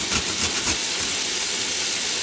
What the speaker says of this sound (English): I put it on the fine grating side and grate it here